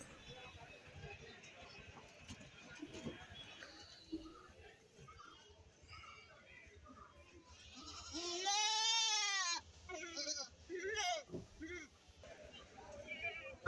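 Goats bleating at a busy festival goat market in Kerala, one loud drawn-out bleat up close amid scattered fainter bleats and crowd chatter, with people talking in the background.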